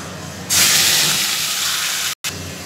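Dried red chilli, cumin, black cumin and bay leaf hitting hot oil for tempering, a sudden loud hiss and sizzle that bursts in and keeps crackling steadily with a brief break near the end.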